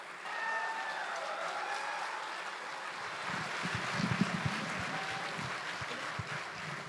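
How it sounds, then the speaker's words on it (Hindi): An audience welcoming poets onto a stage at a poetry gathering with sustained applause, a broad, steady roar of clapping that grows slightly denser midway, heard from a distance. "जोरदार तालियों से स्वागत कीजिए वसीम बरेलवी साहब का, शारिक कैफी साहब का और फरहत एहसास साहब का।"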